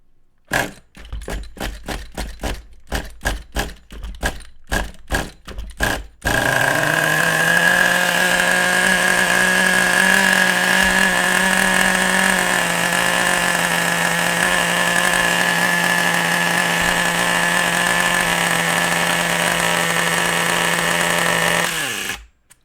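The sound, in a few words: RC car nitro engine idling too high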